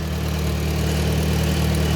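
A 1954 IH McCormick Farmall Super C tractor engine idles steadily, a loud, even low chugging rumble close by with no breaks or other sounds.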